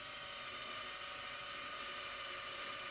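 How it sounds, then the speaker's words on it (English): A drill bores steadily through a resin and wood log slice clock face, a continuous, even, high whining grind, close and unbroken, with no voices. "I'm going to drill it out smaller first."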